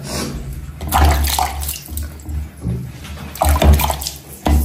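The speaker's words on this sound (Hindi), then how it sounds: "ठंडे ठंडे पानी से ब्रूनो नहाएगा।" Cold water splashes and pours over a dog during a bath in uneven bursts, loud and close, with no talking.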